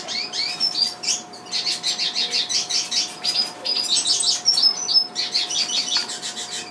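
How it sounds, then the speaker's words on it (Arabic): A young chick chirps persistently while begging for food, rapid high-pitched peeps in quick pulsing runs close to the mic over a faint steady hum. "فرخ طبيعي جدا ويطلب الطعام بشكل طبيعي"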